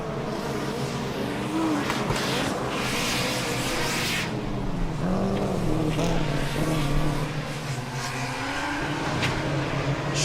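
A Formula Student race car from the Braunschweig team laps the endurance track at FSG 2023. The engine whines and rises as the car passes, with bursts of tire noise and a steady crowd or track ambience underneath.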